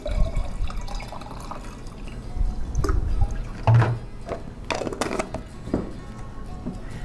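Vinegar and salt are poured into a jar for a homemade garden weed killer, giving trickling, dripping liquid sounds with a few brief clinks and handling noises, close and moderately loud with no talking.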